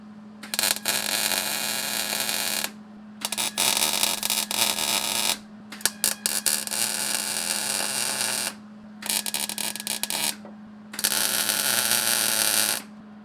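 A welder tack-welds a nut onto a Jeep spring plate, giving four long bursts of loud, crackling arc noise separated by short pauses, over a steady electrical hum.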